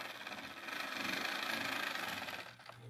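A model SD40 locomotive runs at a train show with a rough, worn gear, giving a steady, fairly loud mechanical whirring rattle that holds for over two seconds and then drops off near the end.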